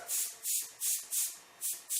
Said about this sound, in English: Again, spray on the mask, take advantage of that.